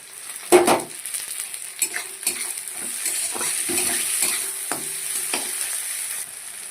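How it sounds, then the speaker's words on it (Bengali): Chopped onion, green chilli and tomato fry in hot oil while a spoon stirs them, with a continuous bright sizzle broken by close scrapes and knocks against the pan and no voices. "তো পেঁয়াজটাকে এবার লাল লাল করে আমি একটু ভেজে নেব।"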